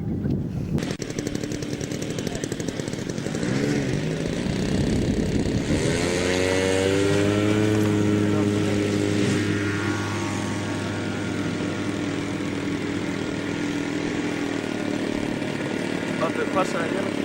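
A model aircraft's small engine buzzes loud and continuous at a model flying meet in Akureyri, its pitch sweeping up and down as the plane maneuvers overhead, while outdoor background chatter carries faintly.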